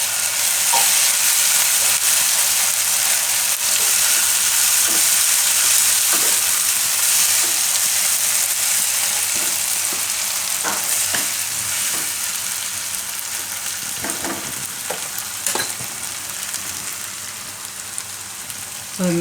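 Tandoori Maggi noodle mixture stirred and frying in a pan, a steady close sizzle with scraping spoon strokes throughout, loud and continuous.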